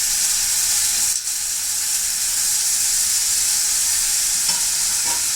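Onions frying in a pan give a loud, steady, hissing sizzle that runs without a break, with a faint scrape or two of stirring and no voices.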